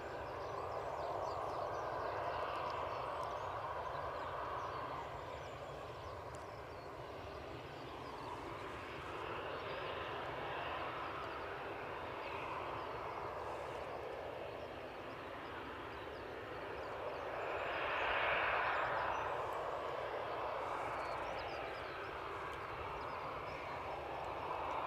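Distant airliner engine noise at Edinburgh Airport, a Pegasus Airlines jet rumbling faintly with slow swells and a brief louder rise near the end; no talk.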